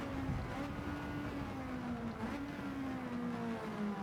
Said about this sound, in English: Using all the braking and the engine rev.